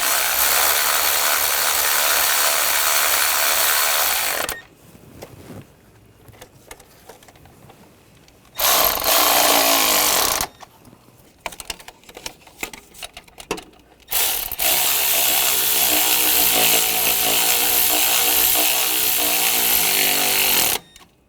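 Bolts on a Honda Pilot V6 engine are driven down with a power ratchet in three long buzzing bursts, separated by quieter stretches of hand ratchet clicks and tool clatter, close up with no voices.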